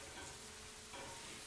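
Food sizzles and fries steadily in a cast iron pan, a continuous close hiss of oil with faint stirring and no voices.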